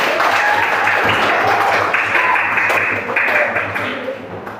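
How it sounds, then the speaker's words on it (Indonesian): A class of students clapping at the teacher's request during a lesson, a moderately loud, continuous patter of hands that tapers slightly toward the end. "tepuk tangan untuk saya"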